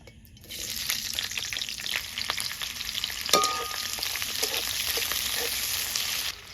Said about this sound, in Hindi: अब मैं इसमें डालूंगी प्याज